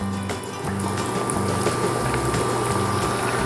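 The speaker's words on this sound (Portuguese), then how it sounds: "agora eu vou fritar aqui em óleo não muito quente" Bolinho sapo dough balls frying in oil that is not very hot, giving a steady, close bubbling hiss with a low hum underneath, continuous throughout.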